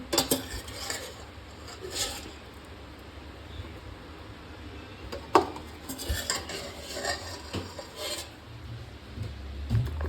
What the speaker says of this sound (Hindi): ये आलू सारे में निकाल के इसको ये सबको मैश करूँगी।